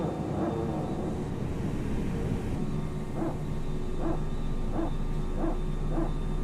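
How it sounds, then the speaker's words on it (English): A dog barks about five times in a steady, evenly spaced series, distant and faint beneath a constant airliner cabin hum of a ToLiss A319-100 in flight. "Barking dog."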